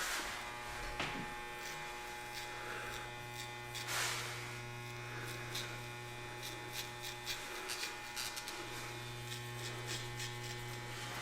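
Electric hair clippers buzz steadily while cutting hair, a continuous mains-like hum with short breaks and faint brushing and snipping textures around it.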